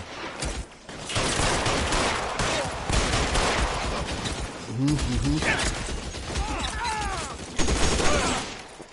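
Gunfire in the video game L.A. Noire, loud bursts of shots and rapid fusillades mixed with clattering mechanisms, while voices talk and shout over the action throughout.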